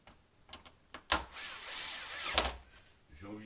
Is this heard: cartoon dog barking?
no